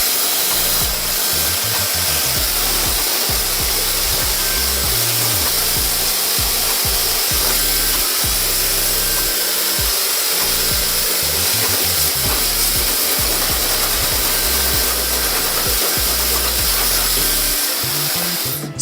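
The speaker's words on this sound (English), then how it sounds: "for added texture, you can take your hands and scrunch and dry" Hair dryer blowing continuously and loudly while hands scrunch and rub a men's hair system, with an irregular rustling and thumping underneath.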